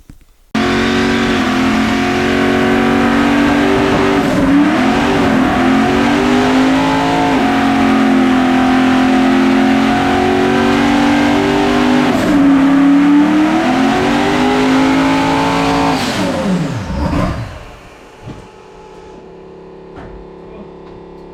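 A turbocharged V8 car roars through a long garage burnout, its engine loud and sustained with rising and falling revs, then cuts off abruptly into quiet rattles and faint after-sounds.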